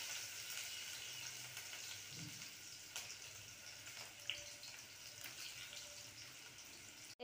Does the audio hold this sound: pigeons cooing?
no